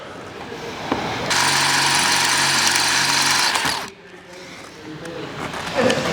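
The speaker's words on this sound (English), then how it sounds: "So we'll drill these out." A power drill bores 3/16-inch holes through a truck roof rack on a Toyota Tundra, giving a loud, steady whine with a droning motor hum for about two and a half seconds before stopping, then quieter handling noise follows.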